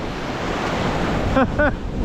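Warm Indian Ocean surf breaking at the beach in Gouritsmond, South Africa, a steady wash of waves with wind noise on the microphone and a brief voice-like sound in the background.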